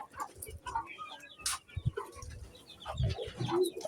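Hens cluck softly and intermittently at close range on a poultry farm, with scattered scratching and movement noises around them.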